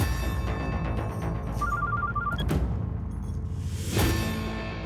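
A telephone rings in a scene from the Telemundo telenovela Señora Acero, short repeated electronic ring tones over background sound, followed by a loud thump and a lingering tone.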